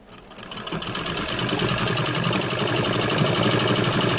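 A sewing machine runs steadily after its upper and lower tension are adjusted, a close, fast, even mechanical whir that builds up in the first half second and then holds without talk.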